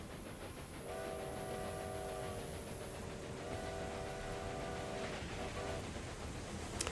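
A train running in the video game Railway Empire 2, a steady rolling rumble with sustained horn-like tones sounding twice, no talk over it.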